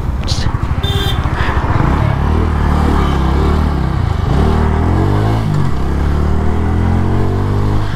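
A TVS Radeon 110cc motorcycle is ridden, its small single engine humming loudly and steadily close by, the pitch rising and falling as it accelerates and eases off.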